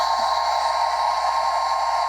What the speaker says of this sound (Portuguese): Ou acelera a secagem com o secador, né? De cabelos.